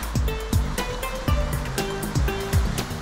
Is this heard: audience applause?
no